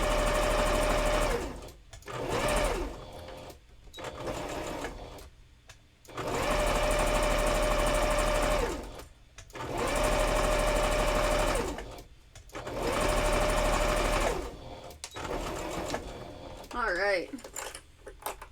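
A sewing machine stitching Minky fabric runs in several loud sustained bursts, with brief pauses and handling clicks between them.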